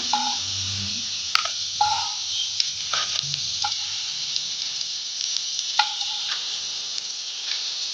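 Rava-coated raw banana slices frying on a tawa, a constant bright sizzle with occasional soft taps and spatula scrapes, close by and without speech.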